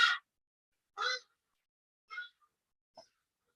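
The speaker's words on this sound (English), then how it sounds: "Birds outside my window." Birds call outside a window, giving four short harsh crow-like caws spaced about a second apart, each shorter and fainter than the last, with silence in between.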